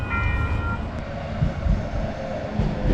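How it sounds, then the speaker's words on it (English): A Calgary LRT light rail train arrives outdoors, giving a steady rolling rumble of wheels on rails with a brief high tonal squeal early on and uneven low thumps as it moves in. "And the next train arrives right there."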